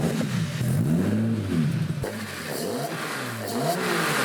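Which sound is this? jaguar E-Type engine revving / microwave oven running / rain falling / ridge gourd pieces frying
jaguar E-Type engine revving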